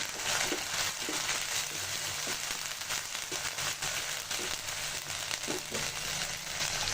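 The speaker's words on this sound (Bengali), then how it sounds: "কাঁচা মশলাটা ভালো করে ভেজে নিব।" Garlic, cumin and ginger paste fries in hot oil for a chicken chickpea bhuna, giving a dense, even sizzle that runs steadily throughout with no voices.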